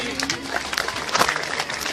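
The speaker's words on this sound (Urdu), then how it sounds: "آپ لوگ بھرپور تالیوں میں کھڑے ہو کر استقبال کیجئے" Audience clapping in a hall at an annual prize distribution ceremony, greeting a professor as he comes onto the stage; a dense, steady patter of many hands that swells briefly near the middle.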